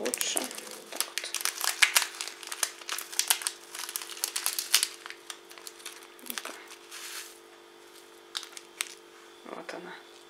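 A plastic packet of dried vegetable soup mix is torn and crinkled open in close, irregular bursts of crackling, with a person talking between the rustles.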